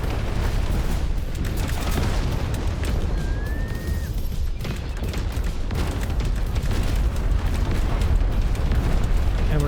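Rocket explosions in Instruments of Destruction as a vehicle fires rockets to wreck structures, a dense continuous roar of blasts and crumbling debris that stays loud throughout.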